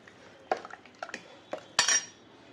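A spoon mixes chicken heart and liver sambar in a metal pot, making a handful of separate clinks and scrapes, with the last one the loudest and longest.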